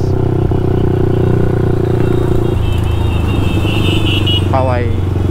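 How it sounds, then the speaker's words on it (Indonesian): A Yamaha MX King bored up to 170cc, a road-race style build with an aftermarket exhaust, idles and revs up close by, loud and throaty with a brief rising rev near the end, while someone talks over it. "Pokoknya suaranya ciri khas lah, ciri khas MX King Road Race."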